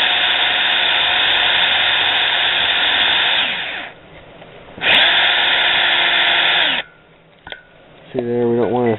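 Power drill boring Boyesen ports into a Yamaha YT175/Blaster two-stroke cylinder, a loud sustained whine that drops off, returns, then cuts out with brief pauses before spinning up again.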